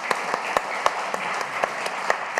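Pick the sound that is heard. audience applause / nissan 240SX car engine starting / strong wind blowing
audience applause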